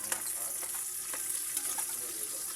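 Small fried fish sautéing in a pan for adobong sitaw, a steady bright sizzle with soft stirring scrapes and light pops throughout, close and fairly quiet.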